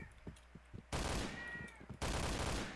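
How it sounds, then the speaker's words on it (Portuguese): A pet cat meows briefly at the midpoint, caught among loud, dense bursts of gunfire from a Point Blank shooter match played nearby. "Meu gato tá miando aqui já."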